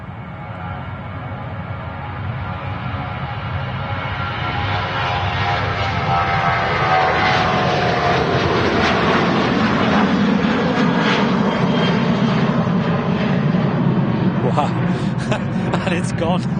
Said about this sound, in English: Ryanair flight to Nantes